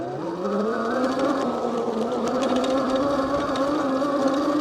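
A Heybike Villain electric dirt bike in mode 2 pulls away at full throttle, its motor giving a steady, rising whine that holds loud and continuous throughout.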